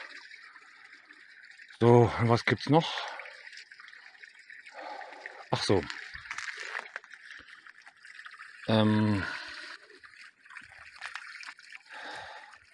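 Mineral spring water with a slight sulfur smell trickles and pours continuously from a source in a Siberian village in Buryatia, a steady faint flow under someone talking in German.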